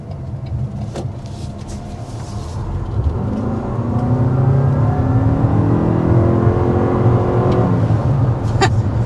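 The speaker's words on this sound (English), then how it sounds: "we want to go ahead and start with a hard acceleration" A 2024 Toyota RAV4 Prime SUV accelerates hard from a stop to 60 mph, the engine climbing steadily in pitch through the gears, loud and close, inside the cabin with a rising whine.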